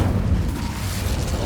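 Incendio fire spell cast in Hogwarts Legacy, a dense low rumbling whoosh of flame with a booming, burst-like body that stays loud and steady across the short moment.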